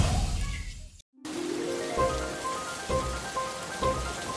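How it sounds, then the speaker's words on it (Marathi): Steady rain pours down on a surface, a dense even hiss with scattered drops; a short silent break near the start, then the downpour resumes and continues alone. "मस्त पाऊस पडतोय रे"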